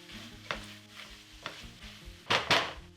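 Red onions toast in a pan with coriander, cumin, turmeric and garam masala, giving a soft sizzle as they are stirred. Brief scraping strokes come at intervals, with two louder stirs near the end.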